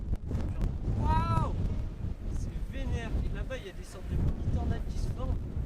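Strong desert wind buffets the microphone in Europe's largest desert, a steady rumbling gust that runs loud and unbroken beneath excited talking voices.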